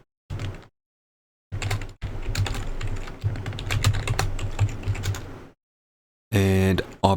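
Someone types a challenge password on a computer keyboard while setting up Ubuntu server certificates, producing rapid close key clatter in bursts separated by brief silent pauses.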